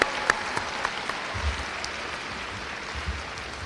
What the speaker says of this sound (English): Let's give another big round of applause to Ms. Terrell.